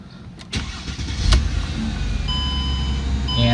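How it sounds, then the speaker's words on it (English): A Mercedes W209 CLK 320 engine cranks briefly with a starter whir after an oil change, catches, and settles into a steady idle close by. "now I'm gonna crank the engine over"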